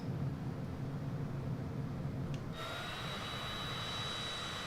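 A jet engine in Microsoft Flight Simulator spools up as the throttle is increased on approach with landing gear and flaps down, a steady roar that shifts into a brighter, higher whine partway through.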